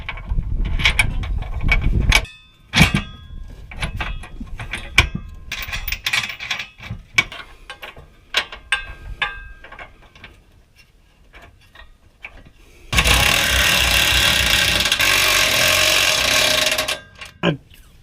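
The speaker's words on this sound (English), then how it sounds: "35-pound impact wrench" A Harbor Freight 35-pound impact wrench working on tow hitch bolts under a Ford Crown Victoria, with irregular clanks and ratcheting taps, followed by one loud continuous buzzing hammer burst of about four seconds.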